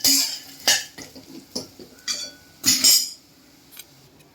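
A utensil scrapes and clinks roasted sandge from a pan onto a plate, making a series of sharp metallic scrapes and taps in irregular bursts, close and with no voices.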